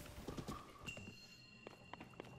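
A horse's hooves clip-clop faintly across the ground in Zelda: Tears of the Kingdom, a few soft steps with a light snort, quiet and close.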